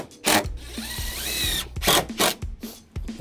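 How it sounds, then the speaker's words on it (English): A power drill drives screws into deck boards in several short whirring bursts, each rising and falling in pitch, with brief pauses between them, close and fairly loud. "let me throw a few screws in this and straighten it out"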